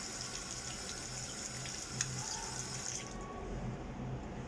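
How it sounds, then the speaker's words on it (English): Hands washed with soap under a running tap, a steady close splash of flowing water with a low hum underneath, easing off slightly toward the end. "And wash your hands. Till all the soap is gone."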